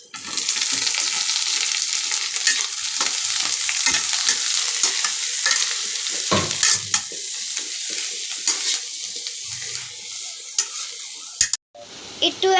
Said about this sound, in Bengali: একটু এখন লাল করব আমি, যাতে এটা ভাজা ভাজা হয় ডিমটা